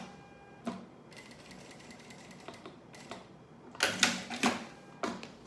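A sewing machine runs in short, slow bursts to stitch a small label onto a thermal school lunch bag, with brief pauses between runs and a denser cluster of stitching near the end; close and moderately quiet.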